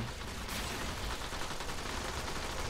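The Detron, a 5 Forma-built gun in the video game Warframe, fires in a rapid, dense barrage of blasts that runs continuously, loud and without pauses.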